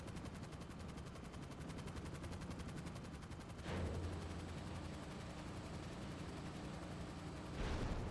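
Sustained weapon fire from GTA 5 Online, a dense crackling roar that gets louder and rougher near the middle and again at the end, with no voices.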